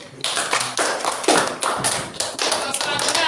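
Students in a madrasah classroom clap together in a dense patter of sharp hand claps that pulses in several waves, with faint voices mixed in.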